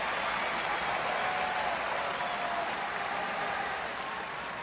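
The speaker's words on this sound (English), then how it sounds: "That was a nice roar that he got with that break of serve" A tennis crowd at a 2024 US Open third-round match roars and applauds after Tommy Paul breaks serve, a broad sustained wash of cheering that holds steady and eases slightly at the end.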